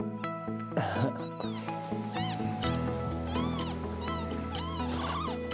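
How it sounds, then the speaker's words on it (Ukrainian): A cat meows several times, drawn-out and whiny, over a steady background hum while someone talks nearby. "Це мій котик"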